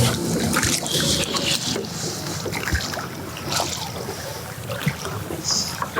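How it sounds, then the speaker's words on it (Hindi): A motorboat moves along the river at Mathura, giving a continuous rough wash of engine drone, lapping water and gusting wind noise, with irregular splashes throughout. "मोटर वाली आवाज करती है थोड़ा सा,"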